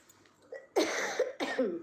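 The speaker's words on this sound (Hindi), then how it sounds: "आधे बार खांसी आ जाती है" Two sharp coughs close together, quiet and nearby, with a softer throat sound just before them.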